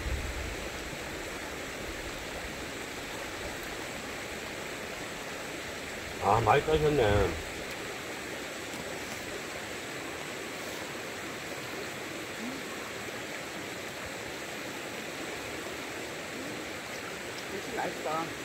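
A mountain stream flowing past a pine-shaded picnic spot, a steady close rush of water running under the whole scene, with people chatting briefly over it.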